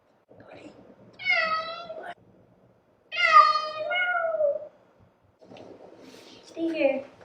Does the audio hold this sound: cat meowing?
yes